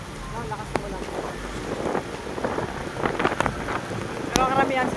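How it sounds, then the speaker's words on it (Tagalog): Strong typhoon wind buffets the microphone while rain keeps falling in a continuous roar in town, with scattered sharp knocks and faint background voices. "Sa ulan, lakas ng hangin."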